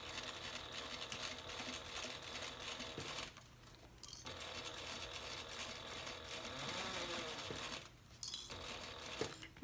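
A sewing machine stitches in a recessed zipper on a handbag at a 3.5 inch stitch length, running in steady continuous bursts with two short pauses, close and moderately loud with no talking.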